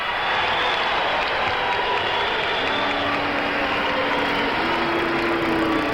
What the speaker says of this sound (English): You can hear a lot of boos through this crowd as well as the cheers for him